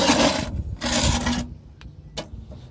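An old metal spatula rattles and scrapes inside a charcoal smoker in two loud shaking bursts, followed by a few faint clinks.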